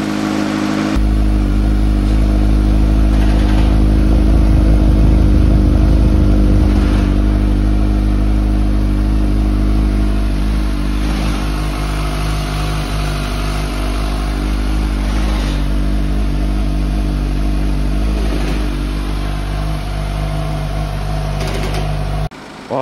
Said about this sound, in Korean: 와, 사기통 엔진 소리